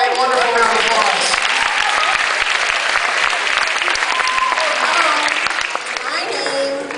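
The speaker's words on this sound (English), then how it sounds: "Give Kyle a wonderful round of applause." A school prom assembly audience at a hypnosis show gives a loud round of applause, dense steady clapping from many hands that continues throughout and tapers slightly near the end.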